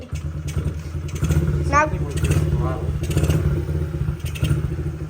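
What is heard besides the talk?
Honda CRF50 dirt bike engine running at idle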